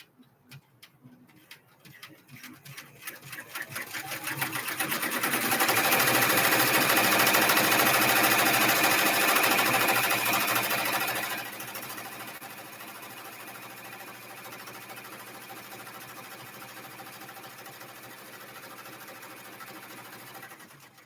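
An embroidery machine stitches a design onto a bag, a steady rapid mechanical whirring that builds over the first few seconds, runs loud and continuous, then settles to a slightly lower, even hum.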